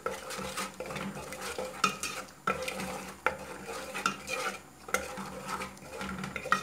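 Tomatoes fry in a pan with garlic and spices, including hot red paprika, while a utensil stirs them in repeated scraping strokes over a steady sizzle, close and moderately loud with no talking.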